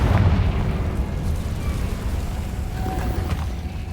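A Confringo fire spell blasts in the Hogwarts Legacy video game, a loud, full-bodied explosive boom that opens the clip and rolls on as a sustained rumble with scattered crackles throughout.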